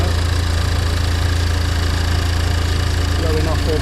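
A Renault Clio 4 RS engine idles steadily while warming up, with a rapid, even low throb and rattle, loud and close throughout, with a brief faint voice near the end.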